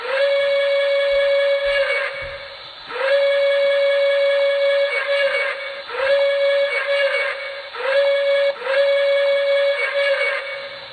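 The Reading hooter whistle of a model Reading T1 4-8-4 steam locomotive sounds in long blasts, several in succession with short gaps, loud and near, no talking.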